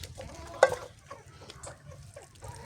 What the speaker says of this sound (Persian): همسایه چقدر مرغ داره.